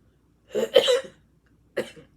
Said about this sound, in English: I tried so hard not to cough.